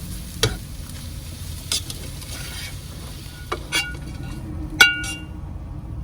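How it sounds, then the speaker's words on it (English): An egg fries in a very hot pan, a steady crackling sizzle running throughout with a few sharp clinks and scrapes of a utensil against the pan. "Plenty of heat in that pan to finish that egg"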